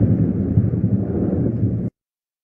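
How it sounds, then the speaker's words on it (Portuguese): Thunder from a storm, a low continuous rumble that holds steady for nearly two seconds and then cuts off abruptly into silence. "esse é o som do trovão"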